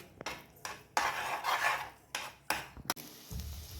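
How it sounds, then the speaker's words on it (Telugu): A utensil stirring egg bhurji in a metal pan, scraping and clinking in short irregular strokes with brief pauses between them. "దీన్ని బాగా కలుపుకుందాము"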